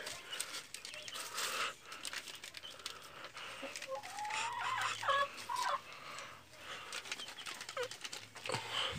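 Chickens inside a nest make soft clucking calls and short, scattered chirps. The calls come and go against a steady rustling background with no talking.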